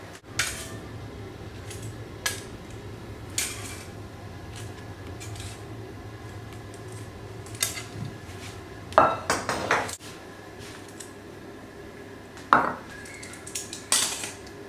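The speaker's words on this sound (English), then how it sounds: "Okay, now that the potatoes are done, we can take them out. We can start adding everything to the plate." Dishes, pots and cutlery clink and clatter while cooked potatoes are lifted out and a plate of Peruvian ceviche is assembled, sharp metallic taps and pings scattered irregularly over a quiet kitchen background.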